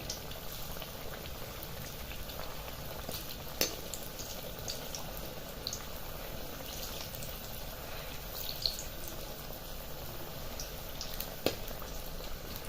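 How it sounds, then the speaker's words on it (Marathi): Potato bhaji fritters fry in hot oil with a steady, soft bubbling sizzle, a constant close crackle broken by a few faint sharp pops and no talking. "आता पलटून घेणार आणि दुसऱ्या बाजूने सुद्धा फ्राय करून घेणार"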